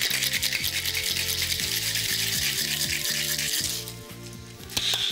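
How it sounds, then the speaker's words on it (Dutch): Ice rattles hard inside a Boston shaker while a French Kiss cocktail is shaken in a rapid, steady rhythm of clattering beats, close and loud, before the shaking stops near the end. "Dan nemen we onze Boston shaker. We vullen die met ijsblokjes. En onze ingrediënten gaan dan samen bij het ijs. Dan gaan we hard shaken."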